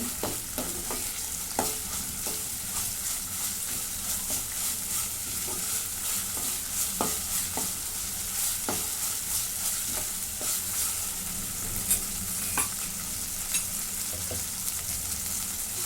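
Coconut and coriander paste sautéing in a pan, a steady broadband sizzle with repeated sharp scrapes and clicks of stirring spread throughout, close and even, with no talking.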